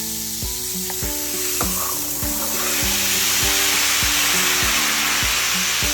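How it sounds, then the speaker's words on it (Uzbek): Baking soda, a packet of citric acid and vinegar reacting in water, a continuous bright fizzing hiss that grows fuller over the second half, with repeated low clinks and knocks from a container, no talk. "Mana shunaqa vijillar chiqadi."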